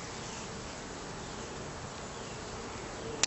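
Honeybees buzz steadily throughout a top bar barrel hive inspection, a dense, continuous hum close by, with a brief sharp knock right at the end.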